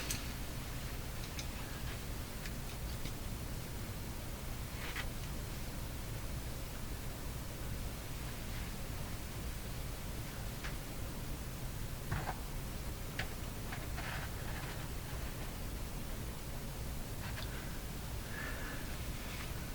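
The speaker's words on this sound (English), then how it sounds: "A little bit of a hum there." A Silvertone 101-583-2 multiband tube radio gives off a very faint, steady low hum from its speaker, with soft hiss and occasional light ticks running continuously and unchanging.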